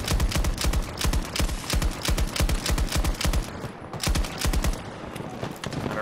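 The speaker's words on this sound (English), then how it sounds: "I don't know if that's a sniper, but I don't like being shot at." Rapid, sustained gunfire fills a chaotic Breakthrough battle in the Battlefield 2042 video game, with loud bursts of shots repeating in quick rhythmic runs and one brief lull before the firing resumes.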